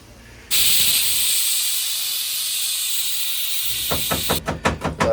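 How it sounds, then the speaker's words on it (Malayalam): Masala of ground ginger, green chilli, garlic and tomato hisses steadily in a pot while cooking for mutton biryani, then a few sharp clanks near the end. "ഒന്നില് മസാല ആയിക്കൊണ്ടിരിക്കുകയാണ്."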